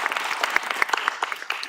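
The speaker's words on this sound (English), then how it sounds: "let's applause for our final round team" A quantum competition grand finals audience applauds the final round team, a short burst of brisk, uneven clapping with individual claps standing out.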